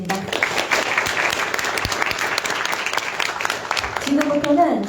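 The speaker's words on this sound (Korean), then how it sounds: "다시 한번 감사 박수 한번" Audience applause at a political party founding convention on a cold day, a steady dense clapping lasting several seconds, with a voice speaking briefly over it near the end.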